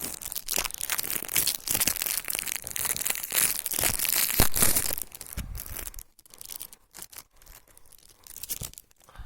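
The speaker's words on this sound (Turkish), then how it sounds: "Beşinci kart şeyini açıyorum." Foil wrapper of a Pokémon card pack being torn open up close, a loud continuous crinkling rip for several seconds that tapers into scattered softer crackles and rustles.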